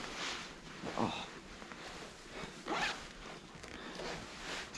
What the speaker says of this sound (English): It's a double zipper.